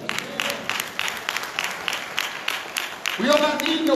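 A church congregation claps in praise, dense rippling applause that swells and grows louder toward the end, with voices calling out over it.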